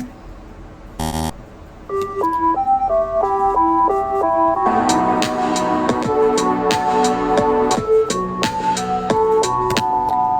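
Melancholy synth arpeggio from a song, a plinking repeated note pattern stepping through chords, joined midway by fuller layered synths and percussive hits, loud and steady after a short burst of noise.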